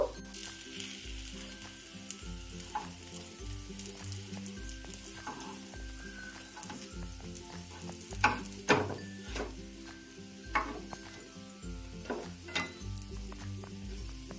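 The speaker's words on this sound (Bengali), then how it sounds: "টিকিয়াগুলোর দু পিঠটাই গোল্ডেন কালার করে ভেজে নেব।" Cauliflower tikiya patties frying in hot oil in a pan over low to medium flame, a steady close sizzle with occasional louder pops and spatters and faint background music.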